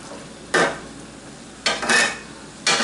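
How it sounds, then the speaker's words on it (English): Meat browning in a pan over medium-plus heat, a steady sizzle with a few louder bursts of scraping and stirring, close and clear with no voices. "Now, all I'm doing is browning this meat."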